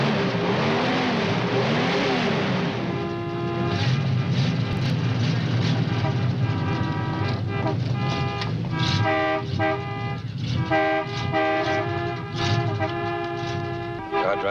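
A car engine starts and revs loudly. Its rough, rising roar has tonal honk-like layers, and dramatic music plays over it.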